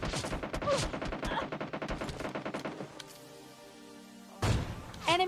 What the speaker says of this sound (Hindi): अब यहाँ पर वो बंदा फायरिंग करता है मेरे ऊपर